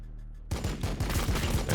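After half a second of low hum, a rapid volley of Overwatch gunfire from a Warhammer 40K Battlesector skirmish erupts and rattles on loudly to the end, a string of close, overlapping shots.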